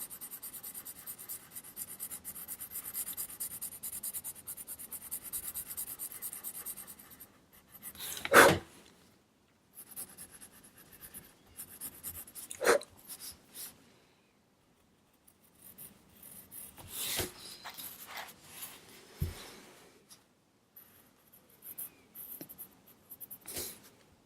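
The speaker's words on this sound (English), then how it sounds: "So I'm going in with the red pencil." Red colored pencil drawing on paper, soft scratchy strokes in intermittent bursts with pauses between, close and quiet, alone without talk.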